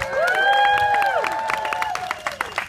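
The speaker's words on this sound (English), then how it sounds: "And occasionally, it gets a round of applause." Cheers and whoops from a crowd at a windy outdoor fair after a fire torch head-balance act, bright rising and falling shouts over scattered clapping, loud and close for a few seconds.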